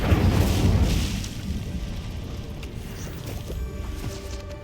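The Incendio fire spell is cast in Hogwarts Legacy, giving a loud, rumbling whoosh of flame that bursts at the start and then fades into a lower, sustained roar.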